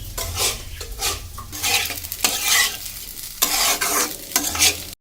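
Rice sizzles as it fries in a kadai for basanti pulao, a spatula scraping through it in repeated bursts of stirring, close and fairly loud, with no talk.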